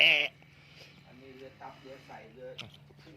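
Sheep bleating in a rice field: a loud, harsh cry opens, then softer wavering bleats follow while voices are faintly present.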